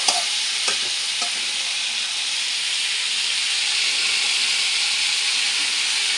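Mixed vegetables fry with a continuous close sizzle and faint steam hiss in a pan, a couple of utensil clicks near the start, no voices.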